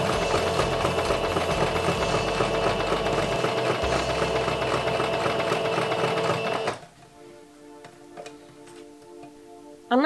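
Sewing machine stitching dress pieces for a costume, a steady fast mechanical whir with rhythmic needle clatter running for several seconds, then stopping abruptly into quiet with a few faint clicks.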